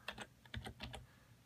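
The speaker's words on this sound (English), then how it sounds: "let me type that in here" Quick typing on a computer keyboard, a short run of separate key clicks in an uneven rhythm, close and fairly quiet with no talking.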